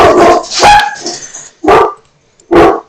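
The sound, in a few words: dogs barking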